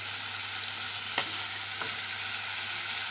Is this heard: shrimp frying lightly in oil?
yes